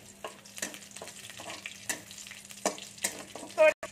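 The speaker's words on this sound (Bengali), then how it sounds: "সরষেটা একটু ভাজতে দেবো" Mustard seeds and a green chili fry in oil in a pan for a jhinge sukto, giving a soft steady sizzle broken by intermittent scraping stirs and a louder clatter near the end.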